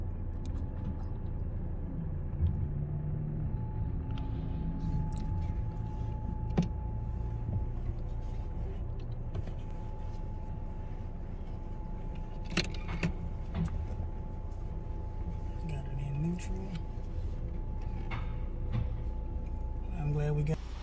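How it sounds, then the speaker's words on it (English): Car inside an automatic car wash: steady low rumble and hiss of machinery with intermittent clicks and knocks, people talking throughout inside the vehicle. "we are going to a car wash."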